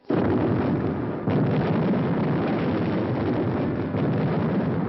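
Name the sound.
dynamite explosions set by guerrillas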